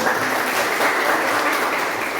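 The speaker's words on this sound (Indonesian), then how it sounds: "berikan tepuk tangan" A class bursts into loud, close clapping during a Christian religious education lesson, a dense, even patter that holds steady for a couple of seconds.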